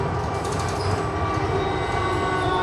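Uijeongbu light rail train running between stations, a steady, loud rumble of wheels and motor with continuous track noise throughout and no talk.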